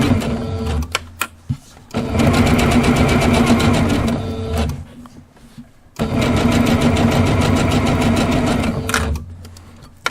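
A sewing machine stitches through a thick pillow wall hanging in two sustained bursts of rapid mechanical clatter, separated by brief pauses with a few isolated clicks, close and loud.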